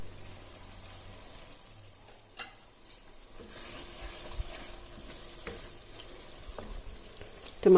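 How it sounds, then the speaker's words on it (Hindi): Tomatoes cook in a covered pan over a medium flame for dahi chicken, giving a soft, steady simmer and sizzle with occasional faint clicks and a stir near the end. "फ्लेम को मीडियम कर देना है और इसे कवर करके 5 से 6 मिनट तक कुक होने देना है"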